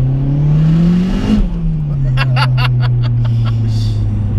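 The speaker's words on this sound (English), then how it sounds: "you know it's on boost as well because it lets you know because of that screamer" A turbocharged 370 bhp Honda Civic EP3 hot hatch with a screamer pipe accelerates, its loud, close engine drone climbing in pitch, briefly dipping, then holding a steady roar with sharp hissy bursts over it.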